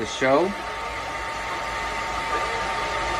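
A blow dryer runs in a steady, loud hiss with a constant whirring hum throughout, after a person's brief voice at the start.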